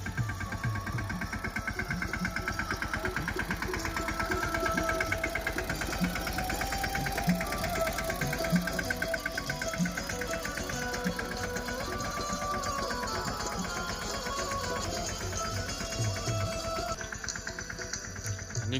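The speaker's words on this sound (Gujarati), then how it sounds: "આપ જોઈ શકો છો આ નાનું ટ્રેક્ટર છે।" A small mini tractor works in a groundnut field on a farm. Its engine chugs and knocks in a fast, steady rhythm at moderate distance throughout, with faint voices now and then.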